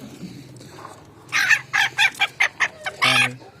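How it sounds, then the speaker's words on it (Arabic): A rooster and hens in a backyard coop, low clucking followed by a loud, close series of sharp squawks and calls in quick bursts, with no one speaking. "طبعا انا بطلع بقى ده اكبر ديك يا جماعة فيهم."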